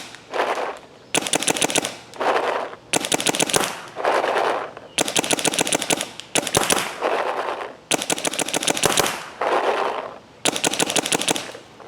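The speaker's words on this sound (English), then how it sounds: "we're going to shoot the field grade paint through it" A Planet Eclipse EMAC paintball marker with a gravity-fed hopper shoots field-grade paintballs in repeated rapid bursts, each followed by a pause, loud and close with no voices.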